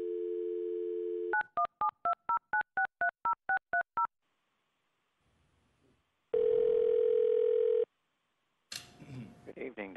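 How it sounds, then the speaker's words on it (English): Telephone keypad tones dialing in to a city council meeting: a steady dial tone, then a quick run of about a dozen clear DTMF beeps, a pause, a long ringback-like tone, and a brief burst of phone-line noise at the end. "if you could go ahead and dial in, Jim, if you could dial in Don."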